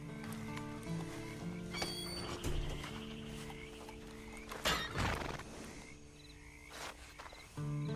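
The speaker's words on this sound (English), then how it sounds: "And you better get on this horse." A horse in the Red Dead Online video game whinnies loudly while hooves clip-clop, set against a steady layered in-game backdrop, with a sharp burst of noise near the middle.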